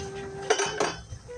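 A metal lid lifts off a cooking pot of simmering chicken necks and hard-boiled eggs, giving two sharp metallic clinks close by in quick succession with faint kitchen noise around them.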